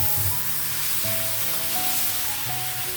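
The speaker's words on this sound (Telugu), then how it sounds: "ఇదిగా ఆయిల్ స్ప్రెడ్ చేసుకున్నాను ఓకే దోశ వేద్దాం ఇప్పుడు" Ragi rava dosa batter sizzling on an oiled pan, a close, steady frying hiss with faint tonal hum underneath, no talk.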